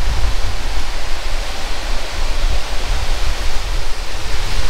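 A waterfall beneath a bridge rushes loud and close, a constant dense roar of falling water with no pauses from start to finish.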